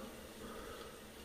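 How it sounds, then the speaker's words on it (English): Steady rain falls in the background, a continuous broadband wash of water noise with no distinct drops or breaks, fairly faint and even throughout. "that noise you hear in the background is rain"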